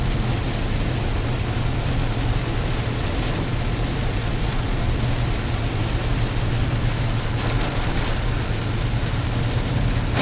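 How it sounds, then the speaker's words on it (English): Steady, dense rain while driving on a road in Costa Rica, a continuous loud wash of drops on the car with a low rumble of the vehicle underneath, unbroken throughout. "there are a lot of videos that just have people driving in the rain"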